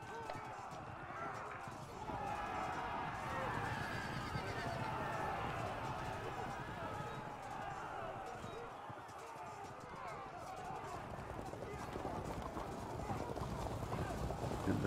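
Horses gallop across a medieval battlefield in the strategy game Field of Glory II, making a dense, steady drumming of hooves mixed with continuous loud battle noise.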